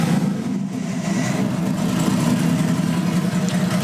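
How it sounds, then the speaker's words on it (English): A Nissan 240SX with a big-turbo RB engine idles steadily at close range, a dense low rumble holding even throughout with a faint rough pulse and no pauses or talk. "So now we'll start the car"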